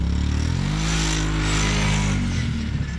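A drag-racing motorcycle accelerates hard, its engine note climbing through rising harmonics in a loud, close roar before dipping slightly at the end.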